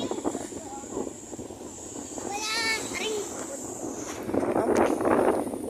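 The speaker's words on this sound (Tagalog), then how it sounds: "Ang ganda ng ihip ng hangin" Wind blowing during a boat trip, steady rushing buffeting across the microphone with an engine drone underneath and voices, including a child's, speaking over it.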